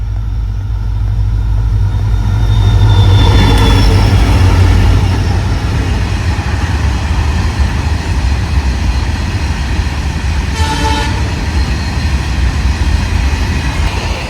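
A diesel locomotive-hauled train rolls past on the Konkan Railway near Suravali, a loud, steady rumble swelling early on, with a brief horn-like tone later.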